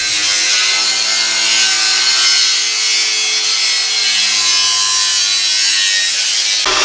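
Metal skid plate for a Chevy G20 van being cut to shape, a steady harsh grinding-sawing rasp that runs continuously and close for several seconds before stopping abruptly.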